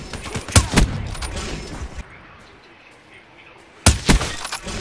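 Sniper rifle shots in a video game: two clusters of sharp, loud cracks with shattering, debris-like tails, separated by a quieter gap of low ambient noise.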